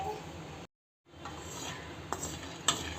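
Cashews frying in a pan over a low flame while being stirred, with quiet sizzling, a metal spoon scraping, and a few light clinks against the pan after a brief gap of silence.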